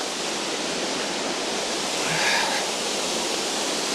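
Arwin Falls waterfall rushing steadily as a dense, even roar, close and continuous with no pauses, its wash unbroken from start to finish.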